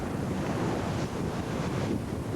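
Ocean waves rush around a racing yacht in the Cape to Rio race, a loud, steady roar of surf and spray with heavy wind buffeting the microphone and no voices.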